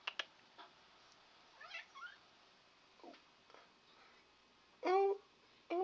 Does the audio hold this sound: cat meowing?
yes